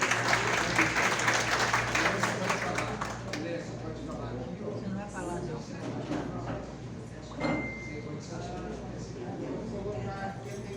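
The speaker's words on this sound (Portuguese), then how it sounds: "Uma salva de palmas, gente." Applause from the audience at a poets' and troubadours' congress, a burst of clapping that is strongest at the start and fades into room murmur and scattered knocks, with a low steady hum underneath.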